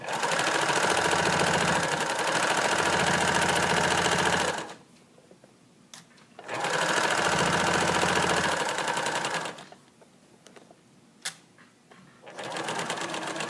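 A sewing machine stitches along a seam allowance in two long steady runs of dense mechanical whirring, separated by quiet pauses with small clicks as the fabric is adjusted, then starts up again near the end.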